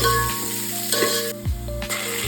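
Onions frying in a pan for a chicken donne biryani, a steady close sizzle broken by a few stirring scrapes and clinks, with no talking.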